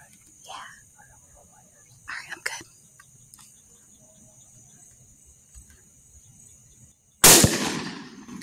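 A single loud rifle shot from a Grendel-chambered rifle fired at a wild hog outdoors at night, cracking sharply after a long quiet stretch of crickets and faint whispering.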